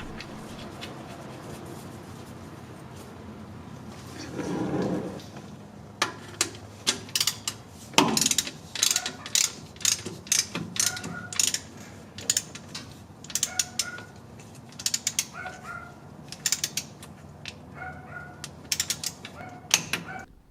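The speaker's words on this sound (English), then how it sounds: "I'll reinstall the drain plug and torque it to spec." A ratchet tightens the transfer case drain plug on a Ford F150. Close clicking runs in short bursts with pauses, mixed with a few metallic clunks and a brief scrape.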